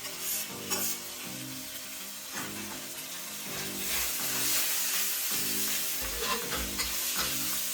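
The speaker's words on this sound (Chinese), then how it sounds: "像这样翻炒几下，就可以下青椒了。 蒜片也下进去。" Pork stir-fried with green chili and garlic slices in a hot wok, a steady sizzle broken by repeated scraping strokes of the spatula at a close, moderate level.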